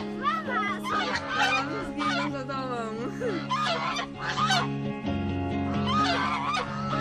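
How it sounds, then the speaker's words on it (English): Domestic geese living by park ponds in Madeira honk loudly and continuously, overlapping calls from several birds close by with no speech. "Beware of the domestic birds living near the ponds."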